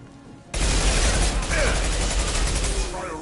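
Sustained heavy gunfire in Mass Effect Legendary Edition breaks out suddenly after a brief quieter moment, then rolls on loud and dense as a continuous barrage, with voices calling out over the shooting.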